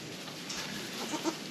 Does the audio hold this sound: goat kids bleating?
yes